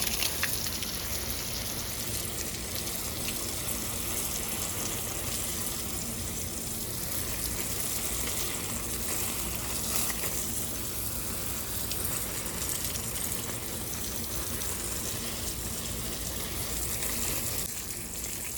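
Garden plants being watered in a Canadian home garden, a continuous broad gushing spray of water that holds steady and close throughout, with no talking.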